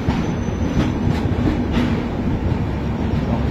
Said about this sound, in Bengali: সীতারামপুর জংশন স্টেশন ছেড়ে দিল